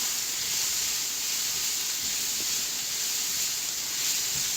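Vegetables, including zucchini, searing in a hot pan for shrimp fried rice alongside scrambling egg, giving a dense, even hiss of steam that holds steady and loud the whole time.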